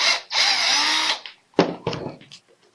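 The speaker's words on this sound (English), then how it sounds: "drill the holes for your line ties" A power drill bores line-tie holes into a PVC swimbait, one steady whine of about a second, then quieter handling knocks and rustles close by.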